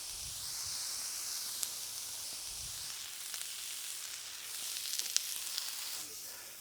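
Philly cheesesteak ingredients in a little extra oil on a grill give a steady, fairly faint high hiss of sizzling, with a few small pops, nobody speaking.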